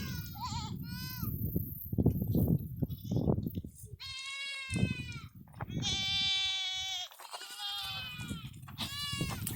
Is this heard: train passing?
no